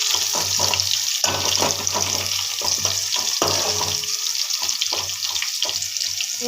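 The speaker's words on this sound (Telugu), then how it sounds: "ఇప్పుడు రొయ్యలు ఆయిల్లో ఫ్రై అయినాయి" Prawns frying in hot oil in a pan for a Telangana-style tomato prawn curry give off a steady, dense sizzle with fine crackling and occasional pops, close and continuous throughout.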